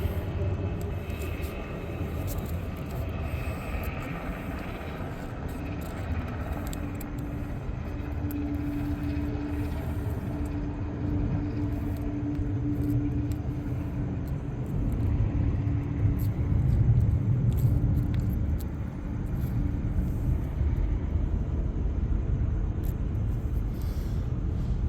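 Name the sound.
helicopter passing overhead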